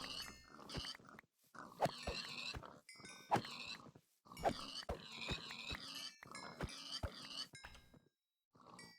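Pigs in the video game Minecraft oink and grunt repeatedly in overlapping bursts, several animals close by in a busy, irregular chatter with brief pauses.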